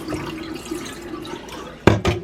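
Milky rice-washing water for Lao sticky rice drains from a bowl with a low trickling gurgle, then two sharper splashy pours near the end; no talking.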